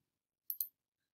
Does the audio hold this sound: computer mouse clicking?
yes